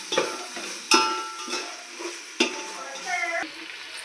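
Garlic and onion paste frying in a home kitchen pan for mushroom biryani, with a steady sizzle broken by several sharp stirring clatters and scrapes of a spoon against the pan.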